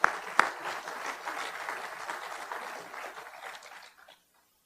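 An audience at Cal Poly Pomona applauds an evening speaker's hosts, a moderate, fairly distant patter of clapping that tapers off and ends just before the close.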